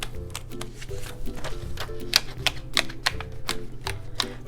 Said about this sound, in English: and I write down my bills that are due.